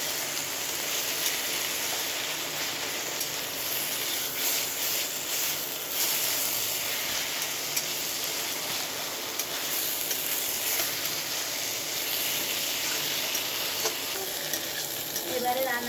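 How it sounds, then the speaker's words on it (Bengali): Pui shak stirred and fried in a pan gives a steady sizzling hiss, with scraping stir strokes throughout. "নাড়াচাড়া করছি, নাহলে নিচে লেগে যাবে, তাই সবসময় নাড়াচাড়া করতে হবে।"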